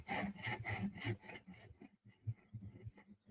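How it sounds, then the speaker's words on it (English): Benchmade 940 knife blade being sharpened on a TSProf Kadet guided sharpener; rhythmic scraping strokes of stone on steel, close and fairly faint, quick back-and-forth passes that slow and grow sparser toward the end. "Now we're going to sharpen."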